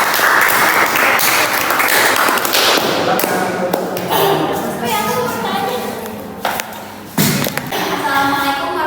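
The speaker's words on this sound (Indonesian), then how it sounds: "tepuk tangan buat kelompok 2" A class applauds a student group, loud dense clapping that thins out into scattered claps, with voices talking over it and a few sharp thumps near the end.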